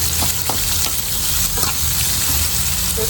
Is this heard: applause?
no